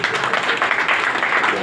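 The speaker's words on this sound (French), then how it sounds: "Applaudissez-les." Audience applause at a sénateur's anniversary gathering, dense steady clapping from a large crowd filling the whole stretch at even loudness.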